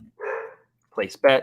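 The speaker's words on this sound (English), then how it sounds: "Sorry for the shrieking dog in the background." Dog in the background gives a drawn-out shrieking yelp followed by two short sharp barks, close and fairly loud, with someone speaking briefly between them.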